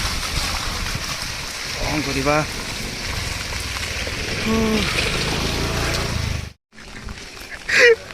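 Heavy rain pours in a steady broadband hiss beneath people talking nearby, with a few short honking calls breaking through before the noise briefly cuts out.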